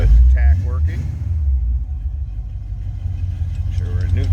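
A 1981 Chevrolet Camaro Z28 with a 350 V8 idles with a deep, steady low rumble, close and loud, while someone talks briefly over it at the start and end.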